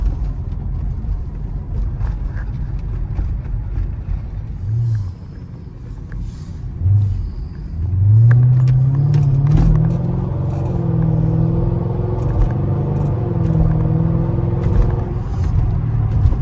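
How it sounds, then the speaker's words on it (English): A 2006 Mercedes SL500 (R230) V8 with mufflers removed but catalytic converters and resonators kept rumbles at idle, then revs up into a loud, throaty roar and holds a deep, raw drone. "This is what it sounds like with no mufflers, but you still kept the catalytic converters and the resonators."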